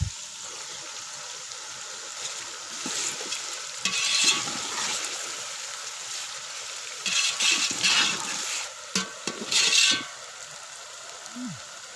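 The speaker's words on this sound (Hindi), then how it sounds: "2 मिनट अच्छी तरह भून लेने के बाद अब इसमें शामिल करेंगे 2 खाने वाले चम्मच अदरक और लहसुन का पेस्ट" Ginger garlic paste sizzling and frying in a pan for chicken yakhni pulao, with a spoon scraping and stirring in bursts over a steady crackle.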